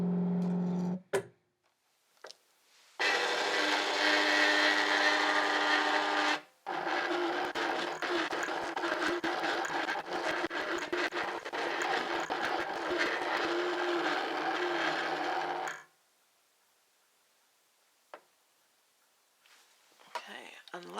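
A Cricut Expression 2 cutting machine cutting a mat, a loud, steady mechanical whir and buzz that runs for about twelve seconds with a brief break near the start, then stops to near silence.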